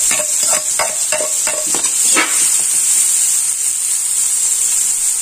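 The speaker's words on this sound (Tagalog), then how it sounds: "Gisahin lang natin ang ating bawang sibuyas." Garlic and onion sauté in hot oil for lomi, with a loud, steady sizzle running throughout and a quick series of sharp utensil scrapes and taps near the start. No one speaks.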